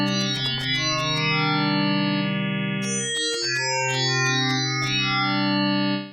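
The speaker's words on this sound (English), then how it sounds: "the noise is a bit too bright, it's a bit abrasive, the tick is a little too loud" A Novation Peak synthesizer plays sustained notes whose noise layer is shaped by a modulation envelope, with short bright ticks at each note onset and a steady, effected tone, loud and alone.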